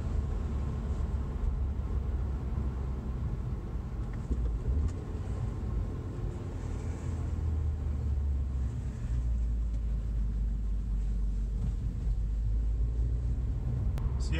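Interior drone of an Audi A4 B7 driving with 034 street engine mounts, a steady low rumble and road noise filling the cabin throughout, with no talk.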